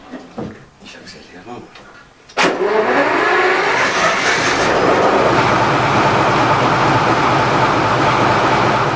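Quiet, then a sharp ignition as a large V12 diesel engine in an RGP X 2709 railcar fires up and settles into a loud, steady rumbling idle, with faint voices before it starts.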